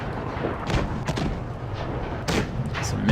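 Tank cannons fire in a competitive video game match: a few heavy booming shots thump out at irregular intervals over a dense rumbling battle backdrop, with no one talking.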